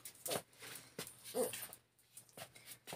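A small female dog with arthritis whimpers indoors, giving several short, high, strained whines in separate bursts with quiet gaps between, close by and moderately loud, with no talking.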